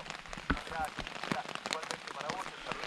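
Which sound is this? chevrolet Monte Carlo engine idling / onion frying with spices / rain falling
rain falling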